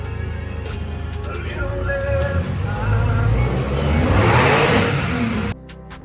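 A rebuilt Porsche engine, freshly fitted with a new IMS bearing, revs with a mid-pitched rising roar that climbs twice in strong, close pulls before cutting off abruptly near the end.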